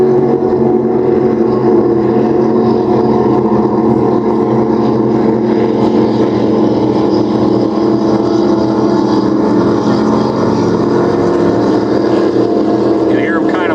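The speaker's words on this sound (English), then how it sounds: "You can hear him kind of backing down on the throttles there." Offshore racing powerboat engine throttling down during an OPA race on the St. Clair River, a loud, steady low rumble holding close and continuous throughout.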